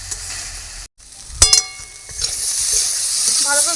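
Potatoes sizzle and fry in a pan as they are stirred and sautéed, a steady close hiss rising after a brief clink of utensils, with no talking.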